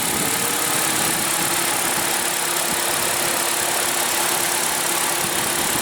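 A 2014 Honda CR-V with its 2.4 L four-cylinder engine idles at a steady, even hum with a low rumble, continuous and close for the whole stretch.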